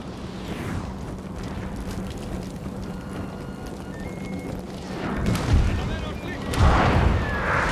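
Deep booming cannon shots from the video game Total War: Napoleon, several in a row, loudest near the end over a steady rumbling background.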